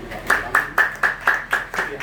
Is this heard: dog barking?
no